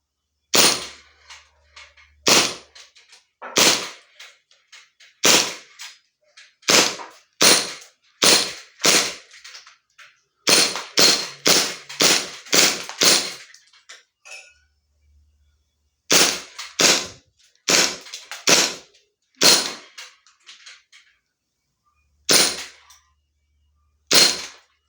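An airsoft handgun, the No. 789 Combat Master, fires repeatedly, sharp loud cracks in bursts of several quick shots separated by pauses and quiet gaps, close up, emptying the magazine.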